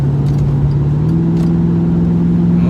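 A 2003 Lincoln Town Car with the muffler and resonator deleted, its engine droning loud and close with a low throaty hum that climbs slightly in pitch as it revs, alone.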